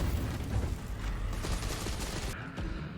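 Rocket launcher blasts and explosions roar through a Resident Evil 3 game, a dense, loud rumble of fire and booms that fades slightly toward the end.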